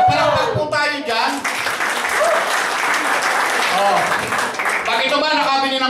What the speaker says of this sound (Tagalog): O, palakpak po tayo dyan